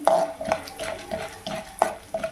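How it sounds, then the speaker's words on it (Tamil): Mustard seeds, pepper, cumin and lentils spluttering in hot oil for tempering, with brisk stirring clinks and scrapes of a utensil against the pan in an irregular rhythm, close and moderately loud. "இப்போ தாளிப்பு முதல்ல கடுகு, மிளகு, சீரகம், கடலைப்பருப்பு, உளுத்தம்பருப்பு எல்லாம் சேர்த்துருவோம். நல்லா பொரிஞ்சு வரட்டும்."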